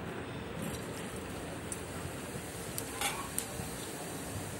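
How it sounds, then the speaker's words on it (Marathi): Cumin seeds sizzling in hot oil in a kadhai, a steady low frying hiss throughout with a few faint utensil clinks near the end. "याला आता छान गरम होऊन देऊन यामध्ये आता आपल्याला जीरे टाकायचे आहे"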